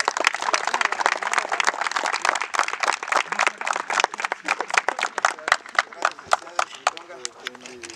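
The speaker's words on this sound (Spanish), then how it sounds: "Un aplauso, por favor" A crowd claps at an outdoor fair award ceremony in Almolonga, Puebla. The dense, uneven clapping runs steadily, then thins into scattered sharp claps near the end.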